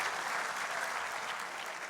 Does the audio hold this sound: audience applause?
yes